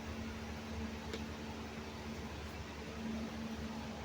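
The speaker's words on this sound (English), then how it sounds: "I don't know if the fans are unreliably loud in here or not on the video" Shop fans running in a car body workshop, a steady, even whoosh with a faint constant hum throughout, fairly quiet and with no talking.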